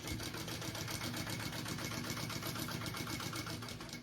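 A sewing machine basting a pocket onto a tote bag's center panel, running at a steady fast rhythm with a continuous mechanical whir and needle chatter, close and alone.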